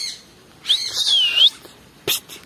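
Birds of many kinds share an indoor zoo aviary in Antalya; a clear whistled call rises and falls, followed by a short sharp chirp, with quiet room noise between.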